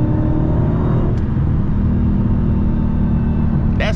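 Heavy, constant engine rumble and road roar from a supercharged Dodge Hellcat cruising on a highway, heard from inside the car, loud and unbroken for the whole stretch with a faint whine above the drone.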